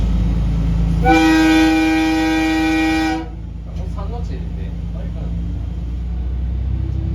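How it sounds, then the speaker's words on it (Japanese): A JR West Etsumi-Hoku Line local train departs Miyayama station, a long horn-like tone sounding for about two seconds, then quieter rumbling and light clanks as it rolls over the railway points. "宮山駅出発の際に少し変わったポイントを通過するのをご紹介します。"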